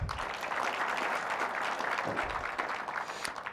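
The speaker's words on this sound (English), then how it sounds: "let's give him another hand clap." A crowd at an East African travel expo gives a general another round of applause after his Pan-African speech: dense, steady clapping at moderate level from start to finish.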